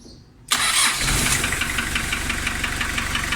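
A Nissan Versa van engine, after breaking down on the road, cranks and catches abruptly after a quiet moment, then settles into a loud, steady, slightly knocking idle.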